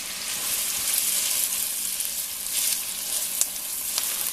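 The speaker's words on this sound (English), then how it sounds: "We're just going to saute that until the onions are soft." A large chopped onion sautés in melted butter, giving off a soft, even sizzle with scattered light pops and faint stirring, close and without speech.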